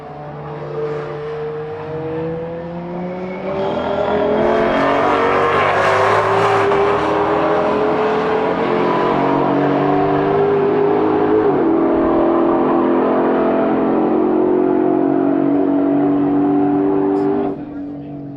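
Race cars run on a track, among them a GT500 and a 720, with one engine rising in pitch through the gears to a loud, sustained roar that fades away, while a commentator talks over it.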